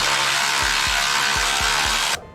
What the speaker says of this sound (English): So these are electric ratchet.